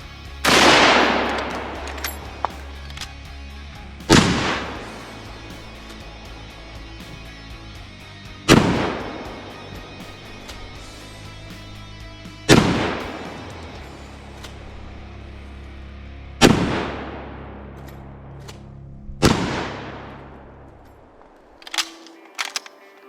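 Six loud, sharp 30-30 rifle shots fired at a John Deere 111 lawn tractor outdoors, spaced a few seconds apart, each with a long decaying echo.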